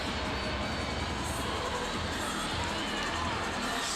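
At a girls high school basketball tournament semifinal, the Jacksonville cheering section roars in a dense, continuous crowd din with shouting and cheering, and a commentator speaks over it.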